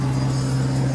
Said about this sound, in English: I got to ride this old, nice American car